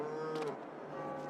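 A cow in Farming Simulator 22 on an Italian farm map gives a short, soft, drawn-out moo, fairly quiet against a steady low barn hum.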